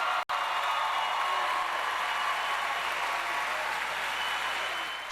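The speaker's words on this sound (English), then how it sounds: "So a rousing applause there at that suggestion" A crowd applauds a speech by Chicago Mayor Brandon Johnson, a steady, dense wash of clapping heard at a distance and sustained throughout, with no voices over it.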